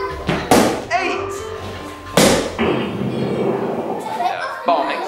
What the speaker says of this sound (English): The bomb exploded under mat number 4!